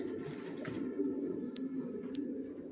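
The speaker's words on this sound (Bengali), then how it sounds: "কোয়ালিটি সম্পন্ন কবুতর পালি," Racing pigeons coo in a steady low murmur inside a loft, several birds overlapping close by, with a couple of brief sharp clicks and no talking.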